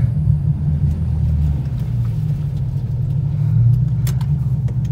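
A 2009 Ford Mustang GT500 engine rumbles steadily and close by, a continuous deep drone that swells slightly toward the end, with no voices.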